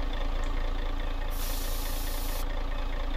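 Mercedes 2651 truck with a short 3x3 setup in Euro Truck Simulator 2, its engine holding a steady, loud drone while an air brake releases a hiss partway through.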